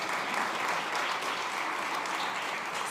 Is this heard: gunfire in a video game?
no